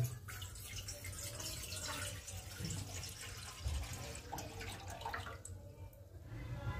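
One mug of water goes into a deckchi cooking pot to heat for vegetable thukpa. A soft, steady pour and splash continues throughout against a low background hum, with no speech.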